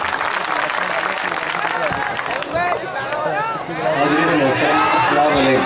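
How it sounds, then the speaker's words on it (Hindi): Audience applause at a mushaira poetry gathering welcoming a poet to the stage: steady crowd clapping mixed with voices and cheering, swelling louder toward the end. "आपसे इल्तिमास है कि आप जोरदार तालियां बजाकर नईम फराज का इस्तकबाल करें।"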